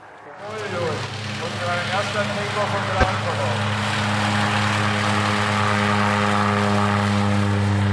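A propeller airplane engine drones loudly and steadily, rising in intensity as it revs up, with a sharp click partway through.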